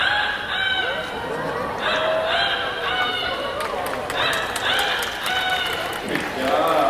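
A person imitates a rooster's crow at an outdoor bird show in a Singapore bird park, several drawn-out, wavering calls over a busy crowd.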